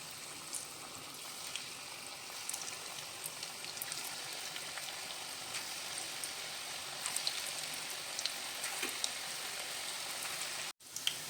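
Small moong dal bhaji fry in hot oil with a steady, faint crackling sizzle and scattered tiny pops, ending in a brief sharp knock.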